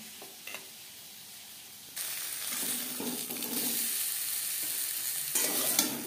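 Pointed gourd (potol) frying in oil in a wok, a loud sizzle that jumps up sharply partway through as more pieces go in, with stirring scrapes and crackle continuing close by.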